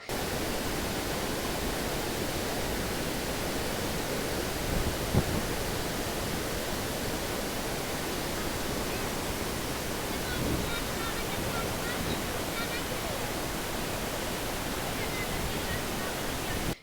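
Water pours through the gates of Srisailam dam on the Krishna river, a steady broadband roar that holds constant and loud throughout, with no break or change.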